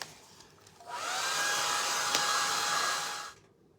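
A hair dryer blows onto a freshly decoupaged light switch plate, switching on after a quiet moment, whirring loud and steady for about two and a half seconds, then cutting off.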